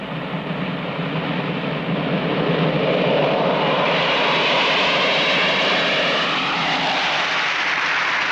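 An airliner departs, a steady loud jet roar with broad hiss that swells slightly and holds, heard alone without voices.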